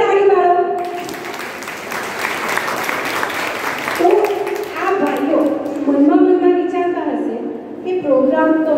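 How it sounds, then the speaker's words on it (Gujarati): Audience applause at an International Women's Day gathering, a continuous clapping crowd under a loud voice speaking over it throughout. "તો ફરી તાળી પાડો."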